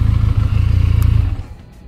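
A Leoncino 500 motorcycle with a 500 cc engine idles loud and close, a steady low throbbing rumble that falls away and quiets after about a second and a half.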